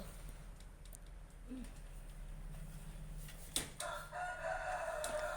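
A rooster crows faintly in the distance against quiet outdoor background noise.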